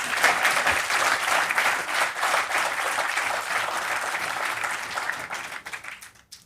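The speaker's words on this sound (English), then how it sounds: "I think a round of applause is required" An audience at the valedictory session of a national conference breaks into a full round of applause, a dense, even wash of clapping that continues for several seconds before fading out.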